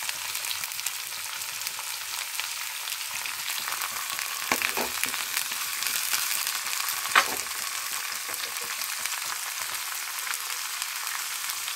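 Carrots, beans and other vegetables for veg rice fry in a hot pan, giving a steady, close sizzle with a few sharper crackles and stirring scrapes, no voices.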